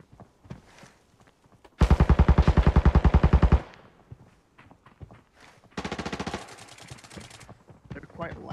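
Rapid automatic gunfire from the Arena Breakout shooter game: a long loud burst, then a shorter, quieter burst a few seconds later, with scattered footsteps and small clicks between them.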